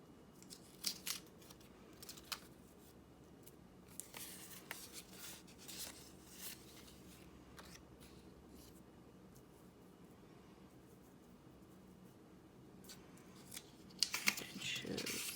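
Scissors snip through paper pieces in quiet, scattered bursts with soft rustling between cuts, close and faint, and a flurry of cutting near the end.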